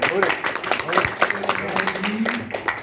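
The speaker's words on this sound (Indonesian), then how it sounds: "tepuk tangan yang mulia" Audience applause in a classroom-style session, steady clapping running under ongoing speech and murmuring voices throughout.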